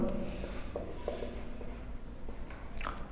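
Pen writing out a physics solution for a class 10 pressure lesson, scratching in short intermittent strokes at close range over a steady background hum, with no talk.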